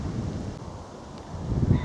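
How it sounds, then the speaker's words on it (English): Southwest breeze buffets the microphone on open hilltop countryside at Sundon Hills, a steady low rumbling whoosh that swells louder toward the end, with no voices. "Got a bit of a breeze today from the east, no sorry, from the southwest"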